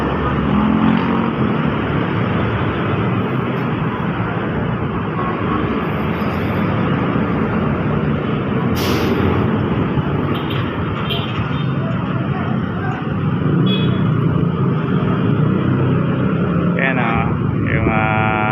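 Cars move steadily along the road to Manila, their continuous engine and tyre roar loud and close throughout, with someone talking over the traffic.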